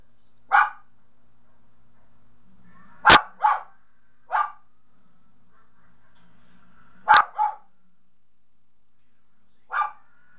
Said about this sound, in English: wouldn't be one of my videos without the dog going nuts